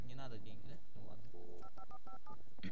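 Phone dialing in the video game Alan Wake: a quick run of short, evenly spaced keypad tones, following a voice, over faint background ambience.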